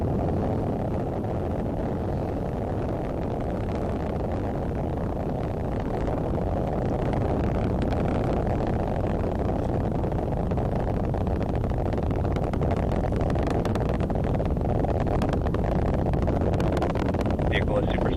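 A Falcon 9 rocket roars through ascent, a broad, sustained low rumble with crackle holding steady throughout, while a launch commentator speaks over it.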